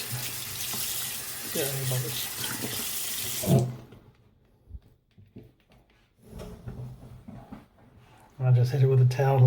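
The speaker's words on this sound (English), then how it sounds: "I'll give it a good rinse." A tap runs loudly as a wristwatch is rinsed under it, a steady water rush for a few seconds that cuts off, then brief clatter and a voice before the faucet surges on again near the end.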